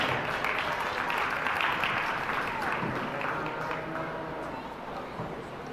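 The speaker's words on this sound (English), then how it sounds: "Give all four of those exhibitors a big round of applause." An audience at a livestock goat show applauds the exhibitors, a broad wash of clapping from the stands that fades gradually over several seconds, with a voice talking faintly underneath.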